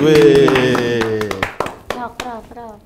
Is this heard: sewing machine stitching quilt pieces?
no